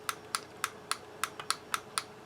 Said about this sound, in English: It's clicking on and off reliably, and it's not too hard to push.